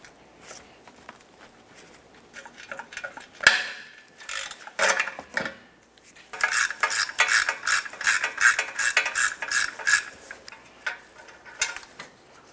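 A ratchet works a 14mm exhaust mounting bolt loose on a 2006-2011 Honda Civic, with a sharp clack and then quick bursts of close, rasping clicks that come in steady runs.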